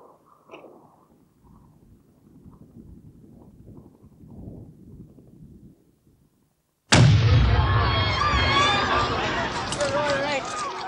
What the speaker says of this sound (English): The explosion had been caused by a hand grenade thrown by a loyalist who'd infiltrated the crowd.